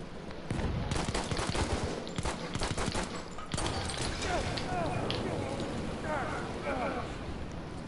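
Gunfire in the video game Battlefield rattles in dense automatic bursts, then thins into scattered distant shots with mechanical clatter, and a player talks over the top.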